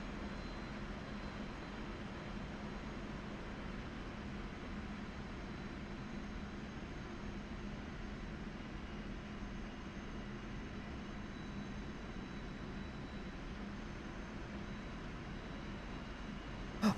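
Steady, loud jet engine drone from a Su-25 Frogfoot in the DCS flight simulator, an unbroken rumble with a hissing top that holds evenly for the whole stretch, no voices.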